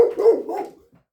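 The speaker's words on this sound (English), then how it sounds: "That's my dog getting..." A dog gives a single short bark with a brief whimpering tail, close and fairly loud, ending in silence within about a second.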